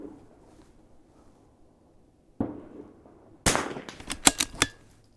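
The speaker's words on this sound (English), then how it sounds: "Two shots." Two sharp .22 rifle reports ring out at an outdoor shooting range, followed by a few quick clicks and rattles of handling.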